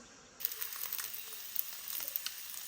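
Steady sizzling of eggs frying in a pan, crackling and popping close by, starting abruptly and continuing throughout with no talking.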